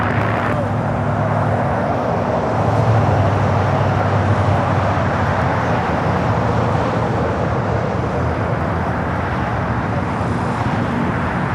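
A KLM airliner arrives on runway 25 left at Los Angeles International Airport, a steady broadband jet roar with low hum that holds at a loud, even level throughout, swelling slightly near the start.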